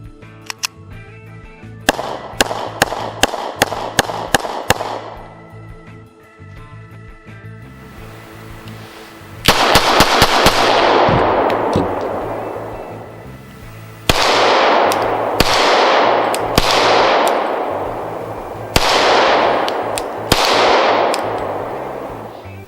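Glock 22 pistol in .40 S&W fired at a range, loud sharp reports coming in rapid strings and spaced single shots, each with a ringing decay, and no talk.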